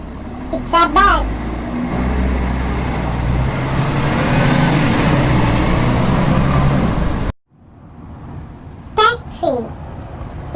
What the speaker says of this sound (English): It's a bus.